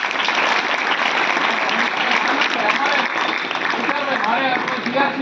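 A school hall full of people breaks into sustained, dense applause for the staff, loud and even throughout, with some voices mixed into the clapping.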